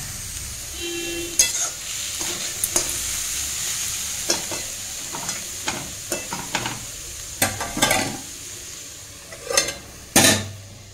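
Cabbage and peas bhujia stir-fried in a pan, a spatula scraping and clacking in irregular bursts over a steady, close frying sizzle.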